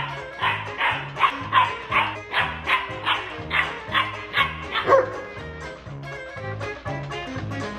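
A German Shepherd barks in a steady run of about a dozen close, clear woofs with yips mixed in, then quieter whimpering, heard over faint background music.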